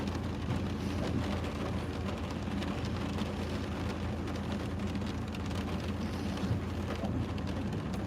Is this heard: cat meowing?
no